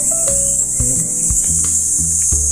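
Steady high-pitched insect chirring fills the background continuously, with low rumbling and scattered knocks nearby.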